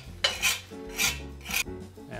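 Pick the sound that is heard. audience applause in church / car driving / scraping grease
scraping grease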